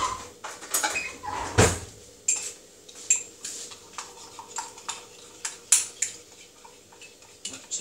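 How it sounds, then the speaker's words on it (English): A spoon stirs gelatine into boiling water in a cup, clinking against the sides in a quick series of light metallic taps and scrapes, with one louder knock early on and no talking. "I'm adding some gelatine. So I'm adding that to the boiling water. I'm going to give that a mix."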